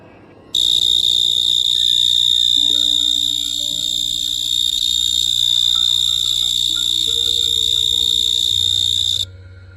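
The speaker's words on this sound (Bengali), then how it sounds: "দূরে ঝিঝি পোকার শব্দ শোনা যাচ্ছিল।" Steady, high, continuous insect-like chirring of crickets at dusk, a dense unbroken drone holding for about nine seconds and stopping abruptly, with no voices.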